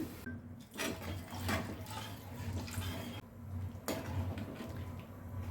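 About a cup of water is poured into a pan of chicken gravy, making a soft, steady splashing trickle that is quiet and close with no talking.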